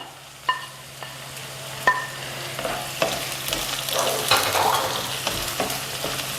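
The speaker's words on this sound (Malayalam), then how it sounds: "ഇതെല്ലാം നല്ലപോലെ ഇളക്കി നല്ലപോലെ മൂപ്പിച്ചെടുക്കണം" Garlic, small onions and curry leaves sizzle and fry steadily in a pan, with a few sharp clinks of a spoon stirring and scraping, close up and with no talking.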